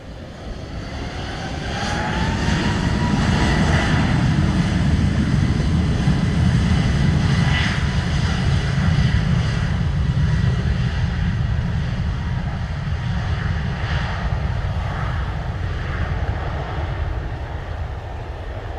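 A jet airliner, American Airlines flight 857, takes off from runway 07, with a steady, loud engine roar building over the first seconds and holding strong throughout.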